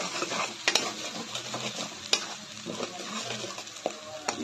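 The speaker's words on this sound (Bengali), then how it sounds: "এরপর আমি এটা কড়াইয়ের ওই তেলেই দিয়ে দেবো।" Garlic, tomato and green chilli paste fries in hot oil in a kadai with a steady close sizzle, while a spoon stirs and scrapes the pan in several sharp clinks and scuffs, no talking.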